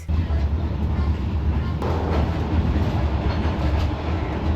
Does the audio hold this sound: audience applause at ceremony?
no